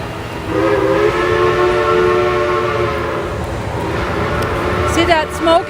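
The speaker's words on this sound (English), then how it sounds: "that is the Dollywood train" Dollywood steam train passing at the theme park, its whistle sounding a long, loud sustained blast over rumbling rail noise, fairly close.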